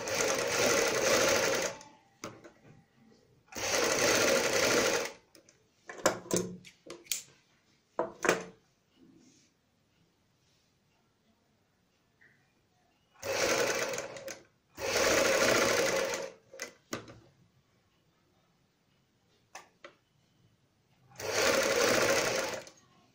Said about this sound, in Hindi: और ऊपर से यहाँ पे एक किनारे की सिलाई लगाएंगे।